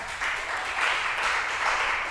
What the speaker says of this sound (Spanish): Démosle un aplauso al Eterno por su palabra.